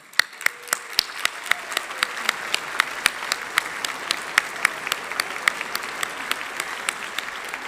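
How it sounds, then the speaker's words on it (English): An audience at the Shine 2019 event claps for several seconds, a dense, even roar of hands with a few sharper individual claps standing out, heard alone without speech. "let us give you all a round of applause"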